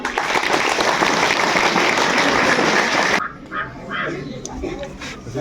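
A crowd applauding to welcome a guest at a school education-dialogue programme, with dense, loud clapping that stops abruptly partway through and gives way to quieter room noise and scattered sounds.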